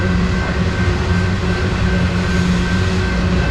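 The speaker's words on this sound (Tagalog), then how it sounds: "Kanina pa itong train eh. Lakas-lakas." A train rolls past at Boulevard Park in Bellingham, a loud, steady rumble with faint wheel clatter, close by and continuous throughout.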